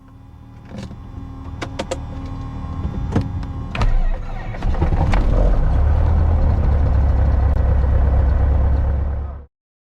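A Piper Arrow's propeller engine starts up: a few sharp clicks and starter cranking give way to the engine catching and settling into a loud, steady, close rumble that cuts off abruptly at the end.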